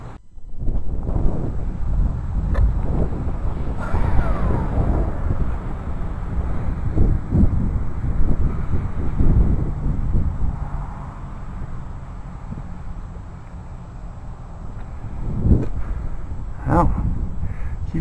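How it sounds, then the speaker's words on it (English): Wind blows outdoors at an airfield as a low, steady rumble buffeting the microphone, broken by a few brief knocks and thuds, with no talk. "the wind's coming from the direction of the building"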